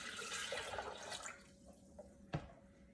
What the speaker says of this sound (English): Now I'm gonna add in 5 cups of fresh water.